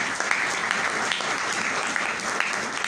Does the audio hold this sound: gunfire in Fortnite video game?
no